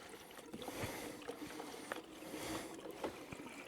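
Diesel fuel sloshes and trickles steadily as it is poured into the fuel tank of a Japanese-market Toyota Hilux 4x4 truck that sat parked for 14 years, a continuous close liquid wash with small splashes and no talking.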